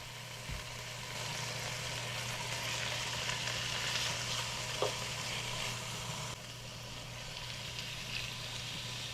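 Chicken pieces sear undisturbed in a hot pan, a steady, even sizzle that holds at a moderate level throughout with a low constant hum beneath and a couple of faint clicks.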